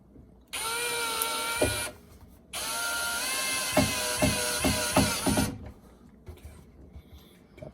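A bolt is driven into wooden drawer stock with a ratcheting tool or drill, giving two bursts of whirring mechanical noise, the second longer and broken by sharp clicks and cracks as the wood splits a little, followed by quiet.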